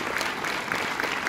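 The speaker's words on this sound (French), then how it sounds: "vous pouvez l'applaudir, hein, messieurs dames" A theatre audience at a film preview in Orléans applauding a woman named Amandine, a brief, moderately soft patter of many hands clapping, steady through the short moment.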